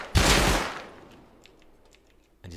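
Gunshots in the game Rust, one loud sharp burst at the start that decays over about a second, followed by faint clicks and a second shot beginning at the end.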